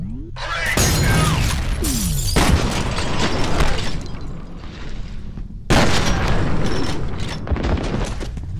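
Grenade blast in the video game F.E.A.R., a loud burst with debris and crackle, then a second heavy explosion a few seconds later, each followed by lingering rumble.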